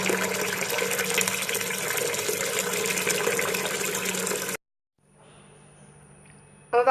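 Water gushes steadily from a tap into a pot of washed meat being prepared for boiling in a Chadian okra sauce recipe, then cuts off abruptly, leaving a quiet, faint trickle.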